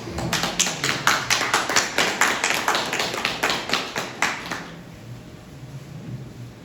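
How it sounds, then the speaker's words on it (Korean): A church congregation claps together in encouragement, about a dozen loud, evenly spaced unison claps in a brisk rhythm that stop abruptly after four seconds, leaving quiet room tone. "격려의 박수 한번 쳐드리겠습니다"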